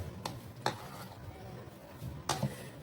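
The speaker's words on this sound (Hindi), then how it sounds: "इसे हम मिक्स कर लेंगे अच्छे से" Mayonnaise being stirred into a potato dough masala for potato cheese bread, with a few soft scraping strokes spaced apart against a quiet background.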